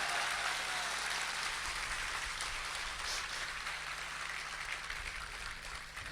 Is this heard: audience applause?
yes